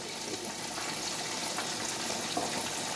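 Vinegar poured into a pot on a stovetop while making escovitch fish gives a steady, even liquid hiss for a few seconds, with no voices over it.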